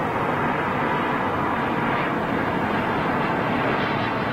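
A big jet airliner idles on the ground, its engine giving a steady, continuous broadband roar with a faint high whine, unchanging and sustained throughout with no talk over it.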